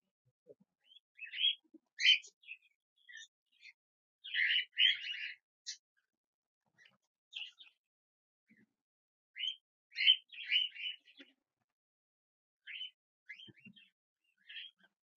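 Lutino cockatiels chirp in repeated bursts of bright, high tweets separated by short pauses, fairly close and moderately loud, with no speech.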